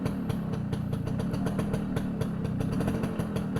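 A 2002 Suzuki A100 Econos motorcycle in fully original condition, its small two-stroke engine running steadily with a fast, even putter and low rumble, close up and alone without talk.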